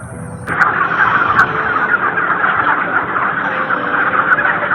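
A crowd of chickens fills the space with a dense, continuous mass of clucking and squawking, loud and close throughout.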